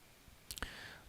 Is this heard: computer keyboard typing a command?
yes